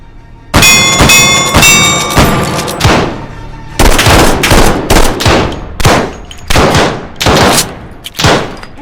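Loud, close gunshots ring out in the VR shooter H3VR, single sharp cracks and short bursts with metallic ringing early on, spaced unevenly across the stretch.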